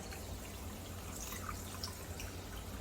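A shower head's stream of water running over the scalp along the hairline during a salon shampoo, a steady close hiss and trickle with no talking.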